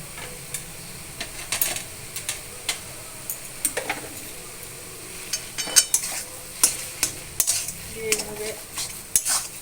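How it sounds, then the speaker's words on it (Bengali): A spoon stirs a soybean mixture with raisins and chopped green chili, giving soft scrapes and irregular clinks against the bowl over a faint background hiss. "এইভাবে একসঙ্গে মাখিয়ে নেব।"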